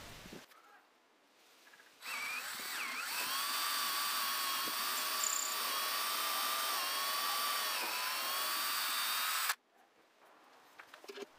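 A power drill whines steadily for several seconds while boring holes for the rudder eye bolts on a Pocketship boat build, starting and stopping cleanly in a quiet workshop.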